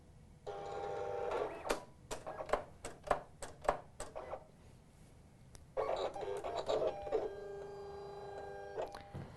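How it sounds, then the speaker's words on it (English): A Silhouette cutting machine cuts stencil material with a steady mechanical whir, broken by a run of sharp clicking carriage movements, then more whirring and motor tones. The sound is faint and close, with no voices. "The machine just finished cutting"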